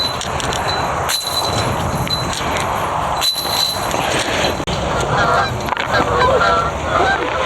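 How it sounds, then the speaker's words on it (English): A goose honking loudly on a disc golf course in New Zealand, repeated close calls over an outdoor background, with a few sharp knocks scattered through. "Goose, go get him!"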